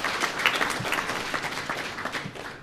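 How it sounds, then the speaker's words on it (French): Audience applauding deputies at a public information campaign launch, a dense, steady wash of clapping hands lasting a few seconds, fairly close and loud. "Je voudrais vous demander de les applaudir."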